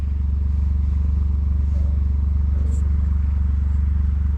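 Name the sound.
John Deere 835R machine engine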